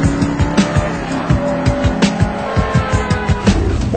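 A 2008 Maserati GranTurismo engine revs hard at high RPM, a loud, sustained, steady tone close by with rapid rhythmic pulses running beneath it.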